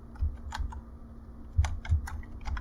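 Fast irregular clacking of keys on a computer keyboard while code and documentation are typed for a Python file and directory tutorial, close and fairly quiet, with a steady low hum underneath and no talking.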